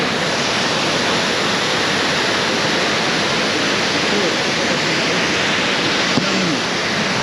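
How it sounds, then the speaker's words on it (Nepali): Davis Falls, a waterfall in Pokhara, Nepal, roars as a steady, loud, dense rush of falling water that stays constant and unbroken throughout. "अहिले चाहिँ हामी ठ्याक्कै डेभिस फल आइसकेका छौँ"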